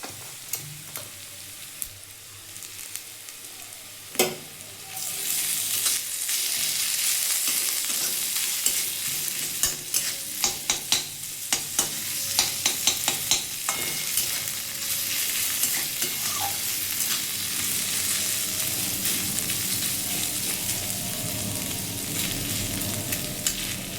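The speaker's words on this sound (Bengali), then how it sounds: "আর রসুনটা দিয়েও একটু ভেজে নেবো" Ginger and garlic fry with onions in a pan for pomfret curry, giving a close, steady sizzle broken by sharp scrapes and clicks of stirring. No one speaks.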